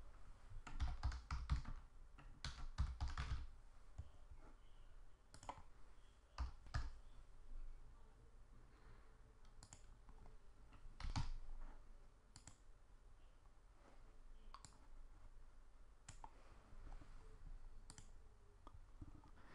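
Scattered keystrokes and mouse clicks on a computer keyboard while a new customer form is filled out in business software, arriving in short irregular bursts with pauses, fairly quiet and close, with no talking.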